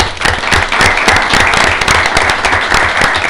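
Audience applause rolls on, loud and close, with sharp individual claps rattling through a steady wash of hands and no voices over it.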